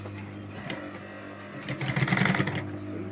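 A sewing machine stitches a fabric handbag in short runs, a rapid mechanical whirring chatter that starts, pauses, and then speeds up louder near the end, close by and without talk.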